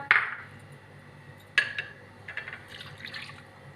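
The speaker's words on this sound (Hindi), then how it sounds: "फिर ये 2 कप पानी चला गया" Two cups of water go into a pan on a lit stove with chicken already in it: a sharp splash opens, a second splash comes at mid-point, then softer trickling and bubbling sounds follow, nearby and moderately quiet, with no talk.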